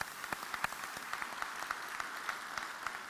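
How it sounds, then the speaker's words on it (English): Faint applause from a crowd at a university fall faculty meeting, a steady patter of many hands clapping for a few seconds. "Let's give them a round of applause."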